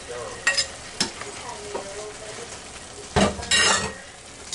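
Spoon stirring browned ham and its juices into potatoes in a pan, with soft scraping and clinks over a faint sizzle, two louder bursts of stirring near the end.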